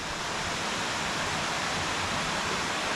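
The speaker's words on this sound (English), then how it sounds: "Small little creek through the woods." Small creek rushing through woods near Freedom Falls in Venango County, Pennsylvania, a steady broadband wash of flowing water with a distant waterfall roar blended in, constant and fairly loud with no talk.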